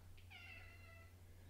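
A cat gives a single faint meow in the background indoors, a short chirp followed by a longer sliding cry that fades out over a constant low electrical hum.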